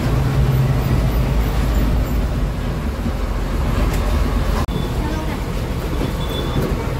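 A bus pulling away from Mohol bus stand gives a loud, steady low engine rumble and road noise throughout, with a brief sharp click partway through and no talk over it.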